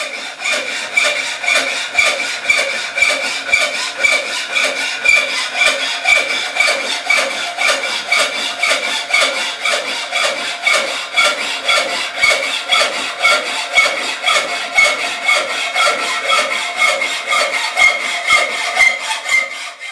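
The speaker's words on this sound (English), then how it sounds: "Mark it off and cut it with a garden variety hacksaw." A hacksaw cutting through steel bar stock rasps in a steady back-and-forth rhythm, each stroke a loud gritty scrape, alone and close for the whole stretch.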